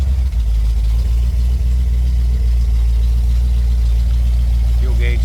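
A fully restored 1963 Ford Thunderbird engine idles steadily up close, a continuous low rumble with no change in pace throughout.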